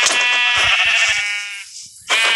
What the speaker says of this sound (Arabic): أنا هجيب خروف تاني طبعا.